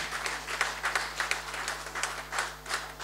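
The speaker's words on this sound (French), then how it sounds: "Nous n'avons pas suffisamment applaudi, s'il vous plaît, ce film et ces différents hommages" An audience at a film festival ceremony applauds a film and its tributes, a continuous round of clapping with rhythmic surges, close and fairly loud over a faint steady hum.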